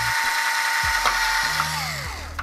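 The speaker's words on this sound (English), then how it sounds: "we're just going to drill a small hole here" A small hole is drilled into a TurboGrafx-16 console shell with a power drill, a steady whirring drone running throughout with shifting motor pitch as the bit works through the plastic, close and loud with no talk.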